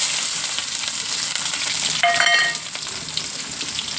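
Onion dropped into hot oil with dried red chillies sizzles steadily and close up, with a brief louder crackling burst and a few clinks about halfway through as the onion hits the pan.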